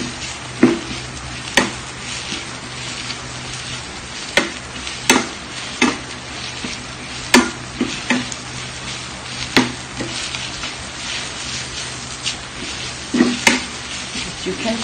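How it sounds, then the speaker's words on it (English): Food being sautéed and stirred in a pan during a Cambodian cooking session: a steady sizzle runs throughout, punctuated by sharp clicks and scrapes of the utensil against the pan at irregular intervals, close and clear. "I'm just going to saute it"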